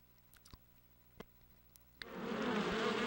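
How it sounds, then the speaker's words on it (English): Cartoon bees in the video game Piglet's Big Game break into a dense, loud, sustained buzz after a few sharp clicks and taps. "They're the bees."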